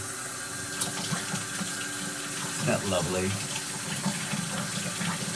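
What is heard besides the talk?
water running from a tap, filling a bath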